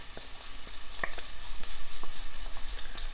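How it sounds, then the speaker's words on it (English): Onion and garlic sizzle steadily in extra virgin olive oil over medium-low heat, a continuous close frying crackle with small pops and occasional stirring clicks, no voices. "Now we're just going to sweat that onion and garlic until the onion's nice and translucent"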